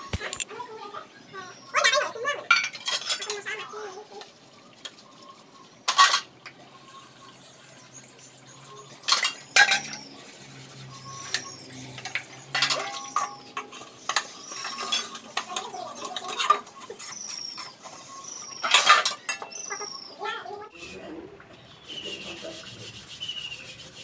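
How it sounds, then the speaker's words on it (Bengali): Dishes and metal utensils are scrubbed and rinsed by hand by someone sitting low on a wooden stool, with intermittent rubbing, scraping and sharp clinks of cutlery and pots, close by, while someone talks at times. "এখন যে বাসন কোসনগুলো দেখছো এগুলো আমি ধুয়ে ফেলি।"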